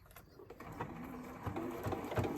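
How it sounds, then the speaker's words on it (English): A sewing machine stitches slowly along a zipper, making a steady, close mechanical whir with a soft rhythmic pulse throughout the short stretch. "And then we're going to start sewing. Do it slow."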